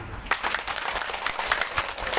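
An audience at a Maulid Nabi religious gathering breaks into applause for a hadroh performance group, a dense wash of clapping that starts abruptly and carries on evenly.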